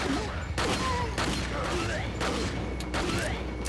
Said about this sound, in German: So, immer schön nachladen.